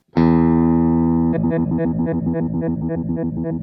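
A sustained distorted guitar chord rings out alone, then shifts into a rapid, even pulsing trill from a Digitech Hammer On pedal that repeats steadily until the end.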